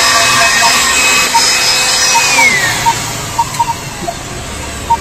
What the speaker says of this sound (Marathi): तर आपलं ब्लोअर सुरू झालेलं आहे.